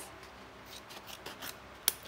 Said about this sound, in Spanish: Cogemos las tijeras